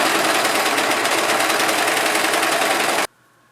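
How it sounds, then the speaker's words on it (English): Serger sewing machine trimming and finishing a fabric edge for a ruffled collar, a loud steady high-speed whir running unbroken for about three seconds before stopping abruptly, close up and with no voices. "using a serger, so it takes a little bit off the edge. It just finishes the edge."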